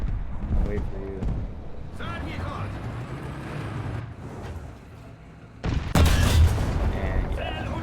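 Tank cannon fire in a video game, with a heavy boom rising out of the battle noise near the end, while someone talks over the game audio throughout.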